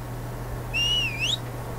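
A human whistle used as a command to a tamed dinosaur in the video game ARK: one short, clear rising-and-falling whistle in the middle, over a low steady game hum.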